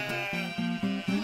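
A sheep bleats in a quick series of four or five short, wavering calls, close and clear with no voices over them.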